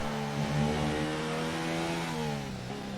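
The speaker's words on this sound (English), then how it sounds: "The sound of the Red Bull is really deceiving because it feels like it's not revving that high, right? That Honda engine's pretty quiet." A Red Bull Honda Formula 1 engine in a racing video game revs in a smooth, steady high whine that climbs slightly and then eases off over three seconds, fairly quiet and with no talk.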